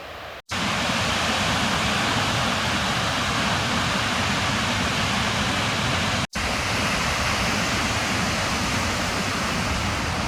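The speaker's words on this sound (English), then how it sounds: "Not far now, we can hear the surf." Ocean surf at Rainbow Beach roars as a constant, loud, broad wash of noise, broken only by two brief dropouts, with no voices.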